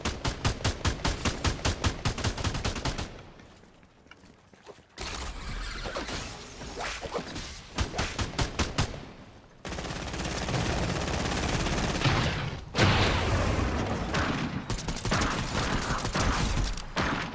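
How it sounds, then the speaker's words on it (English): Rapid bursts of in-game gunfire from a Fortnite trios battle royale match, loud and close, with a sharp rattling opening volley, a lull, then long sustained stretches of dense shooting and impacts. "A lot of shooting by me"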